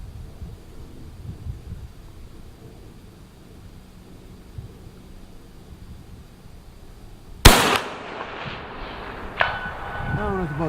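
A Cadex CDX-30 Guardian TAC bolt-action rifle in .308 Win fires at a 490-yard target: one sharp, loud report cracks out after a stretch of quiet outdoor background, followed by a fainter second impact-like crack about two seconds later.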